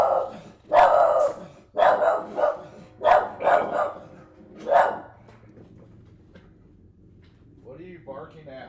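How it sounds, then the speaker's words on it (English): Dog barking indoors, a run of loud, close barks in uneven bursts that taper off, followed by quieter noises near the end. "What are you barking at?"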